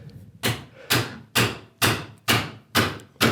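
A wooden mallet strikes a chisel chopping a mortise, giving seven evenly spaced, sharp, loud knocks about half a second apart, each with a brief woody ring, up close and with no voices.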